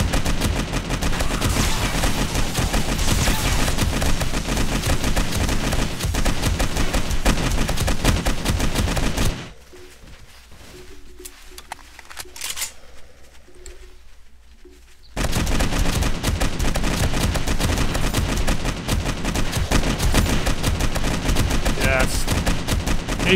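Loud, sustained automatic gunfire with armor-piercing ammunition fills a 7 Days to Die battle and keeps rattling in dense bursts. It breaks off for a quieter stretch of a few seconds, then resumes just as heavily.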